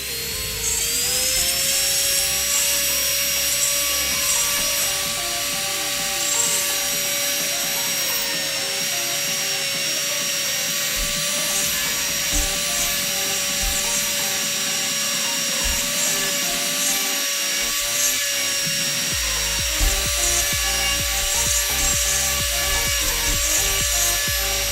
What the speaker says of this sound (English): Long time since I've done any carving with power tools.